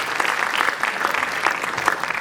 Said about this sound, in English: Can you have a round of applause with Dave,